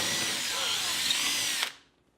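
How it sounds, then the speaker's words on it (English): A power drill bores into sheetrock above a sticky-side-up dust catcher, one continuous close, loud whine running steadily for about a second and a half before it stops abruptly and the room falls quiet. "Then when I come in to drill"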